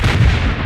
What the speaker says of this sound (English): The explosion even blew my hair off.